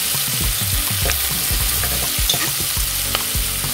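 Cabbage sautés in olive oil with a loud, continuous sizzle, while low clunks and scrapes from stirring in the pan come through up close.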